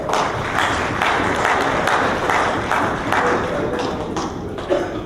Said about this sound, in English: Final round of applause for Minister Joseph.